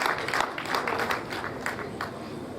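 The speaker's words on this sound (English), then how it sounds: "Please, let's give him a round of applause." An audience at a Nigerian anaesthetists' conference gives a round of applause, a short burst of dense clapping from many people lasting a couple of seconds.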